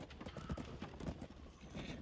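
Horse hooves clip-clopping in the video game Black Desert Online, a quick, regular run of close hoof beats over a soft background, with no voices.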